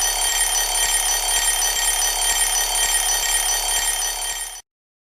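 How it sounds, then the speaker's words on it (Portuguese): An alarm clock rings loud and close in one long continuous metallic jangle with a fast rattling pulse, cutting off abruptly near the end, with no voices. "O despertador tem um som longo."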